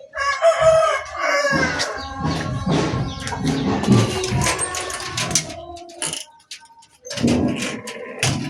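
A rooster crows loudly and close by, long strained calls with a short pause between them, with clucking mixed in.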